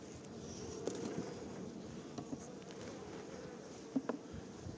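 A steady, dense buzz of many Caucasian honey bees of the Camili ecotype swarming close by during a honey harvest, with a few soft taps and knocks over the continuous hum.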